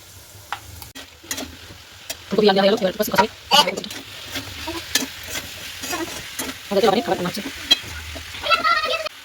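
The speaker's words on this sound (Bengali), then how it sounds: "ফুলকপি আলুর মশলা কষা হচ্ছে, এদিকে বরবটি ভাজা হচ্ছে।" Cauliflower and potato masala cooks alongside frying yardlong beans, a continuous sizzle with bursts of stirring and scraping, and a voice speaks faintly in the background.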